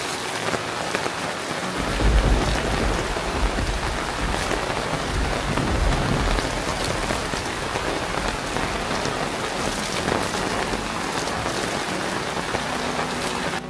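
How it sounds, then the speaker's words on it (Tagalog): Heavy rain pours down at a riverside campsite in the Philippines, a dense, loud, unbroken hiss of drops drumming on surfaces with a low rumble underneath, steady throughout with no voices. "Biglang bumuhos ang malakas na ulan."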